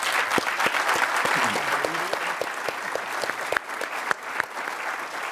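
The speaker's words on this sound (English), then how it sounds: "Round of applause for the panel, please." Audience applause for a marketplace policy panel at a live discussion event, steady and fairly loud, with sharp individual claps standing out and a faint voice briefly underneath.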